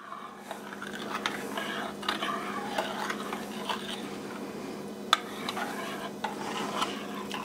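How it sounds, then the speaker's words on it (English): A spoon stirs a liquid mixture gently into yeast in a bowl, producing soft repeated swishes and light scraping strokes close up, with an occasional small clink against the bowl. "And we're just going to stir that in gently"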